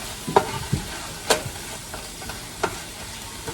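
Ground sausage fries in a pan under a low, steady sizzle. A few distinct scrapes and knocks come from a utensil stirring the meat, spaced irregularly, and no one speaks.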